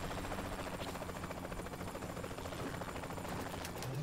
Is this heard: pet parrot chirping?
no